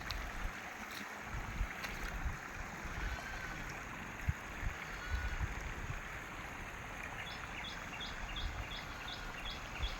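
Rainwater flowing across a flooded road on the Mangalam road in Gandhi Nagar, Avalurpet, a steady broadband rushing wash under a continuous faint hiss, with occasional small splashes and a distant bird.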